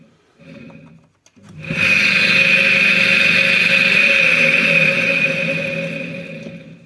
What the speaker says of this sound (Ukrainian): Двигун робочий.